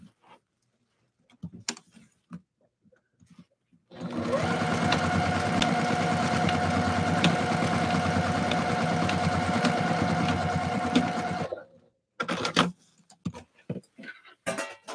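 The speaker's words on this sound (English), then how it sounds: "And then I'm going to sew the elastic together." A sewing machine runs in one steady, continuous burst for about seven seconds, stitching tutu elastic together, with scattered clicks and handling noises before and after.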